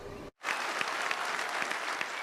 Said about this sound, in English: The applause inside Liberty High School's auditorium was frequent and hearty Monday night